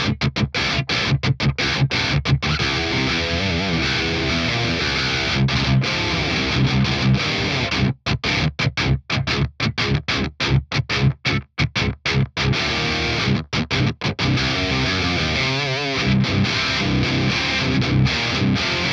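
Electric guitar runs through a BOSS OD-200 hybrid drive pedal into a crunchy amp, playing tight, heavily distorted riffs with abrupt gated stops and choppy staccato bursts, loud and alone without talk.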